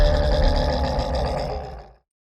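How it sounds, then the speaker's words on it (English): Creature sound design's main tonal vocal layer, heard dry without effects: a deep, growling roar-like voice, loud and close, sustained for about two seconds before stopping abruptly into silence. "this was like the main tonal vocal sound for the creature."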